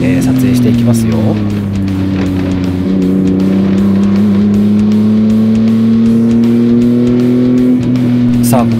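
Kei cars, a Suzuki Alto, Honda Today and Honda Beat, running slow sighting laps in the rain at Asan Circuit, with a loud steady engine drone from close behind that rises gently in pitch and holds throughout.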